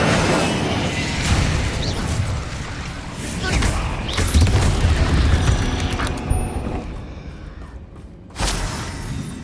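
Incendio fire spell blasts in Hogwarts Legacy combat, rumbling booms and crackling bursts layered over continuous battle noise, with a sharper impact near the end and some speech mixed in.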